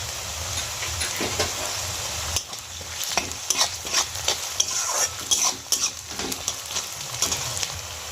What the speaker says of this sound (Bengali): আলুটা যাতে তাড়াতাড়ি ভাজা হয়ে যায়।